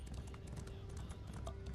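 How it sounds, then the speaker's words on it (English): Horse hooves clip-clopping at a steady gallop in The Elder Scrolls Online, a quick even rhythm of hoofbeats over a dense ambient game bed, fairly quiet and continuous. "I'm going to get on my horse"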